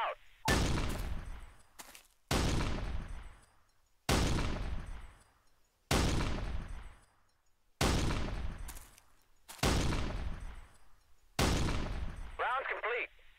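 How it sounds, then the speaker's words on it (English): Eight-round artillery volley from ArmA 3 slamming into a target area: a series of loud, booming explosions at roughly two-second intervals, each with a sharp crack and long rumbling decay, alone without talk. "we're going to call in an 8-round volley on those grunts down there"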